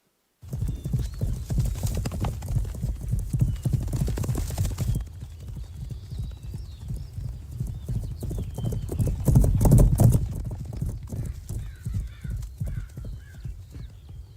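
A mistreated horse runs loose around an enclosure, its hooves beating a steady, fast clip-clop close by with occasional whinnies, growing louder for a moment before settling back into continuous galloping.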